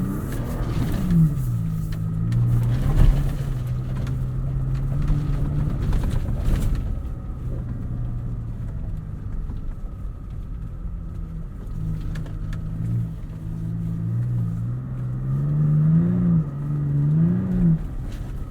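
A 2020 Toyota Tacoma TRD Offroad in two-wheel drive with traction control off churns across sand dunes, its engine droning and revving up and down in waves, loud and close throughout with bumps rattling the cab.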